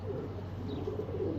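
Pigeons coo in a loft, soft low repeated coos under a steady murmur of background noise, close and continuous.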